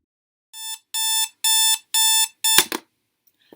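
An electric alarm clock beeps five times in an even rhythm, loud and close, then stops with a clatter as it is switched off.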